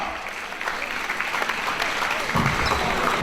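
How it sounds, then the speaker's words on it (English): An audience at a charity classic event applauds the coaches with steady, sustained clapping from a crowd, continuing for several seconds. "Clap it up for the coaches, y'all."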